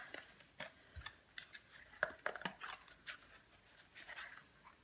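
Scissors snip through card paper while making a Christmas table favour box, a series of quiet, close, irregular crisp cuts and clicks.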